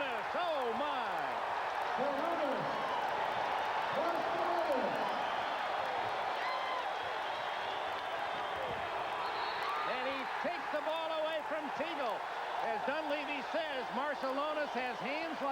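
Basketball arena crowd during a 1991 Lakers vs Warriors playoff game, a loud sustained roar and cheering after a tip-in, with a commentator talking over the din and squeaking sneakers.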